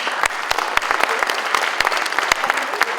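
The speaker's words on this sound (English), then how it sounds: "give yourself one more round of applause" Audience applause for a round of thanks at a Be a Rock 2023 fundraising event, a steady wash of many hands clapping with sharp individual claps popping out, close and loud, no voices over it.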